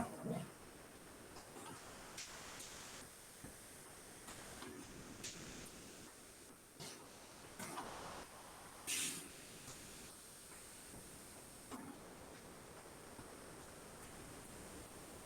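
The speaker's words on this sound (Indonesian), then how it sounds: "Suara gemericik air." Soft, continuous trickle of water with a hissy, spray-like texture, fairly faint, with occasional brief louder splashes; no one speaks.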